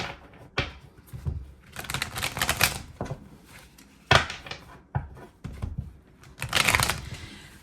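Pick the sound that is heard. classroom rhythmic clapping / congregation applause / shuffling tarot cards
shuffling tarot cards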